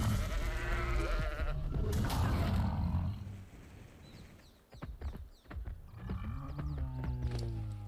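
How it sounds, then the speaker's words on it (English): Sheep in the ARK survival video game gives a few bleats amid game sounds, loud at first and then quieter with scattered sharp clicks and hits, no speech. "We have a sheep right here."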